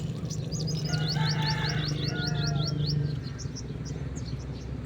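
Birds chirp repeatedly in a rooftop garden among fruiting calamansi plants, a quick run of high tweets in steady rhythm over a constant low hum, with fainter calls trailing off.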